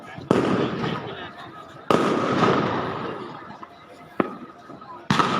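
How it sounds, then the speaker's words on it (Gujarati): Firecrackers burst during Diwali at the Salangpur Hanuman temple: several sharp, loud bangs spaced a second or more apart, each trailing into a crackling, rumbling decay over faint background voices. "ત્યાં આપણો ફટાકડાની અવાજ આવી રહ્યો છે"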